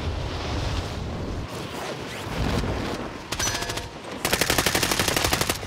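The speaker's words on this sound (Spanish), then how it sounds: "¡Me disparan!" Bursts of automatic gunfire from a Call of Duty match on Rebirth Island, starting as dull rumbling shots and building to rapid, loud sustained machine-gun volleys near the end.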